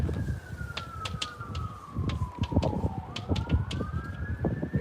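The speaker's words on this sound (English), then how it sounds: "And you hear the sirens?" Emergency vehicle sirens wail in long sweeping tones in a small town on the Olympic Peninsula, fading and overlapping, mid-distance over a busy background of clatter and murmur.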